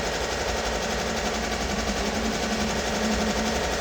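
A sewing machine runs steadily while stitching fabric around the leg openings of bloomers, a continuous close mechanical whir with a fast even rhythm and no break throughout.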